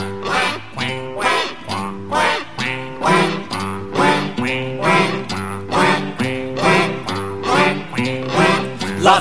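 Cartoonish duck quacks ride a bouncy opening jingle for a Portuguese-language book show, repeating in a steady rhythm over about nine seconds of loud music with no talk.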